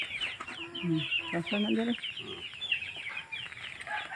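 Farm chickens and their chicks cluck and cheep close by in a busy, overlapping flock, while a person speaks briefly over them.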